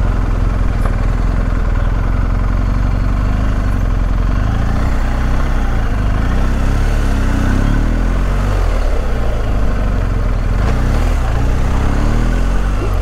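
BMW 1250 GS motorcycle rolling slowly through city traffic on a ring road, its engine a steady low rumble close by, broken by gentle throttle changes and surrounding traffic noise throughout.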